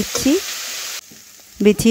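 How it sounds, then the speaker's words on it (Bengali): Thin bitter gourd rounds fry in a pan with a brief, close hiss of sizzling that drops away suddenly, and short voice sounds come at the start and end. "তো এইভাবে মাঝখানে একবার উল্টে নিচ্ছি এক পাশটা, কারণ ভাজা হয়ে যাবে তাড়াতাড়ি।"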